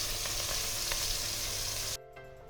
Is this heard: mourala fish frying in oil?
yes